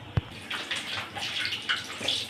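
Cooked rice being drained of its starchy water in a home kitchen, a brief knock followed by a steady splashing, gurgling pour that runs on close by and alone.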